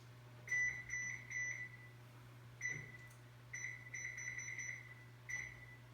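A kitchen oven's control panel beeps as it is set to 325 degrees for brownies, a series of short electronic tones in irregular clusters, fairly close, over a steady low hum.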